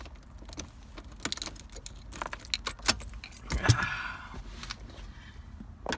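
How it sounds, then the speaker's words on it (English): Keys jangle in bursts of metallic clinks as they are moved aside inside a 1990-1993 Acura Integra during center console work, close and fairly quiet, with faint rustling and no talk. "Take my keys out of the way."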